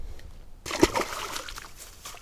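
A released fish splashes back into lake water, one sharp splash followed by brief sloshing and trickling, close by and otherwise quiet.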